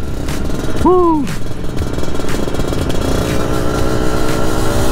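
A 1991 Yamaha RXZ two-stroke motorcycle on a test ride, its engine droning steadily and close throughout, with a quick rising-and-falling rev early on and wind-like rush around it.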